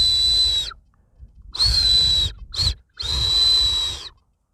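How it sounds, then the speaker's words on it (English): Two shotgun cartridge caps pressed together produce a rough, high-pitched whistle, blown in three breathy bursts of uneven length with a short one in the middle, separated by silence. "they push these 2 shotgun cartridge caps together and it creates a whistle."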